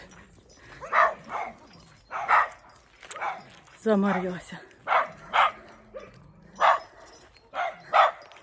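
Several dogs, one of them a German shepherd, bark in short loud bursts at a steady rhythm while someone talks nearby on a rural walk with a goat.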